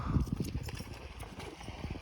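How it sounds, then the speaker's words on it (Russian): Horses' hooves clip-clop in a quick, uneven rhythm on the steppe in summer heat, with faint low thuds and distant background noise. "Вот лошади косяками стоят небольшими."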